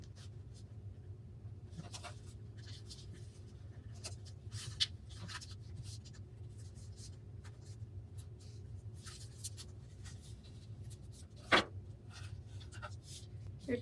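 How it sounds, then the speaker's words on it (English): Paper being folded and creased by hand for an origami chopsticks rest, soft quiet rubbing and sliding with scattered crisp crinkles and one sharper crease snap, close and alone. "I'm going to fold in half one more time"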